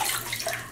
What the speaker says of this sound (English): a lot of rinsing is required to get the water clear